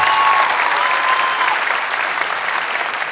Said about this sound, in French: Faut les applaudir, elles ont la classe